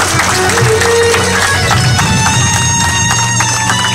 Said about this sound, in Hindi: अब बजाओ एक बार पापा के लिए ताली बोल के दे।